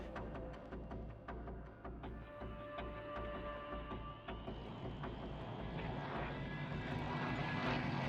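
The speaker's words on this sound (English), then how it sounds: "The plane leaps off the ground, and the passengers and pilot head toward their fate." A propeller airplane carrying passengers takes off, its engine drone steady at first, then growing louder and rougher as it climbs; the sound is continuous, fairly distant and free of talk.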